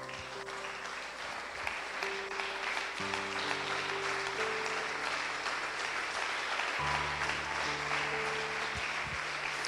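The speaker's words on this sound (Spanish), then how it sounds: "dele el mejor aplauso al Señor Jesús" A church congregation on its feet applauds, broad sustained clapping filling the room for nearly ten seconds while sustained keyboard or organ tones play underneath.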